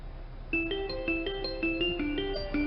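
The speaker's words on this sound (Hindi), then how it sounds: "फोन बज रहा है तुम्हारा?" Mobile phone ringtone playing a repeating electronic melody of bright, stepping notes, heard alone and slightly muffled.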